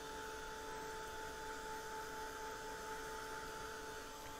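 A hair dryer blows on buckling watercolor paper, giving a steady, continuous whirring roar with a faint tonal hum that holds unchanged from start to finish, with no talking.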